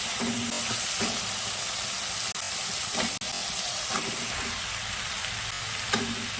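Chopped bottle gourd goes into sizzling fried masala in a pan, bringing a loud, constant frying hiss with occasional stirring scrapes and a couple of sharp knocks against the pan.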